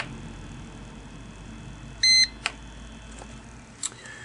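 An IQ120 barbecue controller gives one sharp electronic beep as its knob is held down to enter program mode. A few faint clicks follow in a quiet room.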